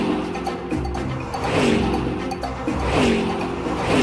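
A car engine revs up and drops back as the driver shifts gears, the pitch climbing and falling in repeated sweeps over a continuous rumble, fairly close and loud.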